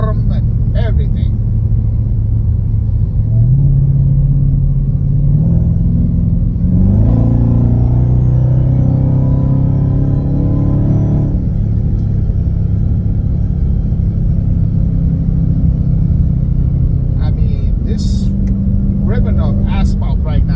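A Dodge Hellcat's exhaust rumbles continuously from inside the car while driving, a deep low drone that shifts pitch with throttle and swells into a louder rev midway, with a voice talking over it.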